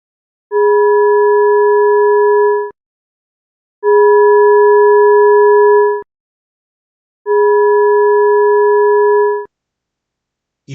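Rock deterioration data under freeze-thaw cycles, rendered as three identical sustained sine-tone chords of about two seconds each, separated by brief silences and unchanged in pitch, followed by a faint click at the end.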